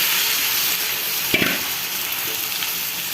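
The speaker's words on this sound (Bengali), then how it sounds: "তা আমি এইভাবে মিষ্টি কুমড়াটা ভাজি করি।" Pumpkin sizzling steadily as it fries in a pan with spices, a constant close crackle with a couple of faint stirring knocks midway.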